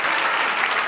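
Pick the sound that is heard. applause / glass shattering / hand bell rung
applause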